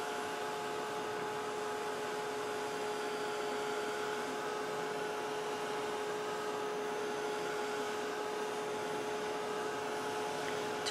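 A heat tool blows a steady, loud stream of air with a constant high whine to dry art stones sprayed with mist, running unbroken throughout with no talking.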